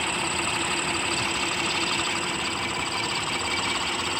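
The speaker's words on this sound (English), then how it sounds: "Under the hood is the famous J-Series Honda engine." Honda J-Series V6 in a 2017 Honda Ridgeline Black Edition fitted with an AEM short ram intake, running with a steady, unbroken hum heard alone at close range.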